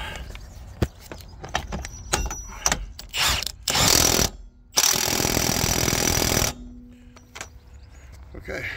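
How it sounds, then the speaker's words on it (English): A hub nut being spun back onto a wheel of an Ifor Williams HB506 horsebox trailer, likely with a power tool, giving loud whirring bursts with ratcheting clicks and clanks between them, close up. "let's get this wheel nut, this hub nut put back on"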